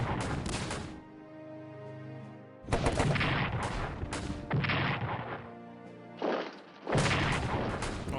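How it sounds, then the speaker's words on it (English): Defensive artillery fire in the WWI strategy game Strategic Command, heard as several loud, booming bursts in separate clusters with rumbling decay between them, and no talking over them. "Defensive artillery."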